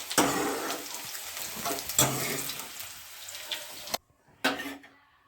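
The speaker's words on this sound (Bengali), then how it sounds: "একটু লাল লাল করে আলুগুলোকে ভেজে নেব।" Potatoes frying in oil until browned, a dense, close sizzle with stirring bursts; it cuts out briefly near the end, then returns.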